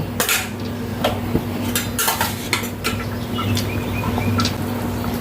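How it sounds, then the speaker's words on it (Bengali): Pieces of fried hilsa fish slide into a cooking pot for a potato and eggplant curry, a few sharp clinks and knocks of utensils against metal over a steady low hum, with faint chirps in the background. "এখন আমি এর মধ্যে ভেজে রাখা মাছগুলোকে আগে দেব।"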